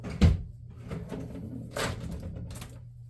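Drawers on a new workbench in a hobby workshop slide and knock shut, a sharp close thud followed by a few softer rattling opens and closes, close up with no talk.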